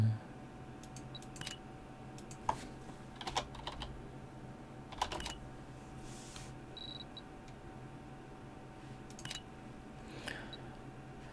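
Someone types a quick chat message on a computer keyboard during Special Force 2 play, with rapid clustered keystrokes and short pauses over a quiet room hum.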